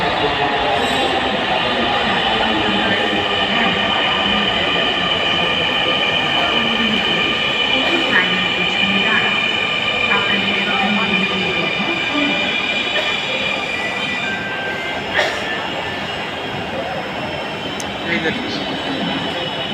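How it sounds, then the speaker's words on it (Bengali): A metro rail train pulls into a station with a loud, steady rumble and faint wheel squeal that fills the platform, while people talk nearby. "দেখো ট্রেন আসে এই যে দেখো"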